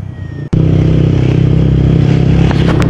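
A motorcycle engine idles loudly and steadily up close after a brief cutoff, its low throbbing hum constant for nearly three seconds with faint clatter on top.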